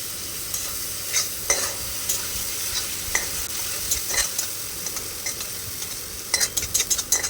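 Spice paste frying in hot oil for Bengali potoler dorma, a continuous close sizzle with regular stirring scrapes of a spatula, busier clattering strokes near the end.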